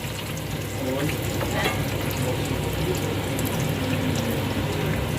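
French fries frying in hot oil make a steady, dense sizzle and bubbling hiss that fills the whole stretch.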